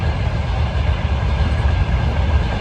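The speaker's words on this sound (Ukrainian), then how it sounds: "І он, бачите, їде потяг." A train rolls past nearby with a steady, loud, continuous rumble of wagons, low-end roar dominating and no voices over it.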